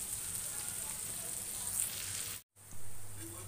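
Onions frying with a little salt in a pan produce a continuous close sizzle that cuts out briefly near the end and then resumes. A faint low hum sits beneath it.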